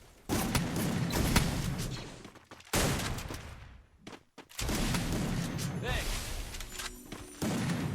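Gunfire in the mobile battle-royale game Free Fire during a tournament match: loud, dense bursts of rapid automatic shots in long runs broken by short gaps, with players' voices faintly mixed in.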